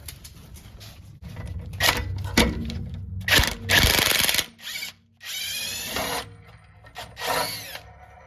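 A power impact wrench works the sway bar end link nut on a BMW F30 AWD rear suspension, sounding as several loud, short buzzing bursts with clanking tool handling between them in a garage.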